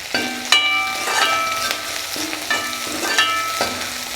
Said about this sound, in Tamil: இப்போ வெங்காயம் வதங்கிட்டு இருக்கையில் கொஞ்சம் கருவேப்பிலை போட்டுக்கலாம்.